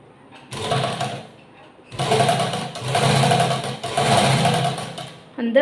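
Sewing machine stitching a folded edge on a pillow cover, three close bursts of rapid whirring stitching separated by brief pauses, with a short sound at the end.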